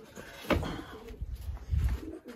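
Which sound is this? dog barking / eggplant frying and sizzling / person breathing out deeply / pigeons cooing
pigeons cooing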